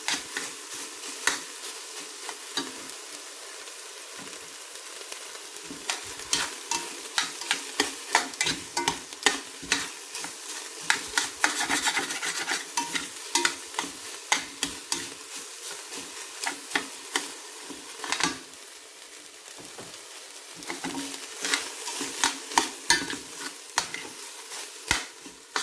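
Cherry tomatoes stir-fry in a pan for a healthy spaghetti dish, giving a continuous close sizzle with frequent clicks and scrapes of a utensil stirring against the pan, and no voices.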